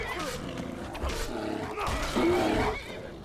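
Skyrim horse squealing and neighing in a fight with a bear, amid roaring and grunting growls, loud, layered and continuous across the clip.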